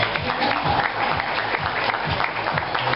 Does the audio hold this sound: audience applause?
yes